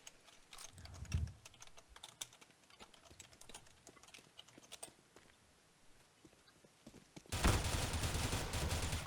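Rapid clicking keystrokes on a computer keyboard patter close and irregularly during a CS:GO session, then a loud noisy burst takes over near the end.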